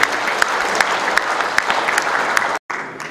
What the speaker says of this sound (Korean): 감사의 큰 박수 다시 한번 부탁드리겠습니다.